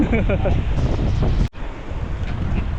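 Strong wind buffets the microphone in a steady roar, with someone speaking over it for the first half before a brief dropout.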